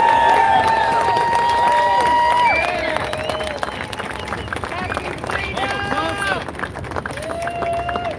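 A crowd at a public gathering applauds and cheers for an honoree, a loud, dense wash of clapping with shouting voices that stays strong throughout and eases slightly partway through.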